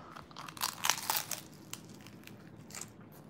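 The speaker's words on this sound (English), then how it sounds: "Let's do these crunchy shredded beef tacos." Crunchy shredded beef tacos bitten and chewed at close range, a cluster of crisp crunches early on followed by softer chewing crackles, with no talk.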